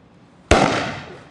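Diet Coke with Mentos and dry ice erupts in one sudden loud bang-like burst that trails off into a fading fizzy hiss, close by and alone.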